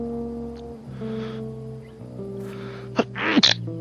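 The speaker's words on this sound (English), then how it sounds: "I think I'm gonna sneeze" A single close, sharp sneeze near the end, preceded by a quick intake of breath, over a steady background of game music.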